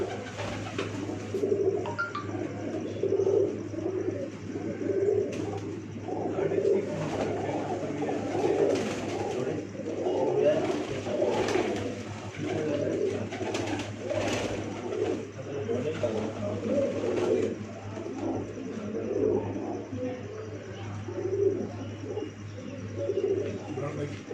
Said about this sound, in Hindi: माशाल्लाह बहुत आउट क्लास कबूतर हैं जनाब।